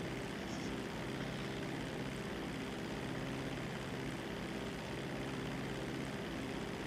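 A steady, droning propeller airplane engine in flight in a video game, with a broad constant roar and hum that holds evenly throughout, no talk over it.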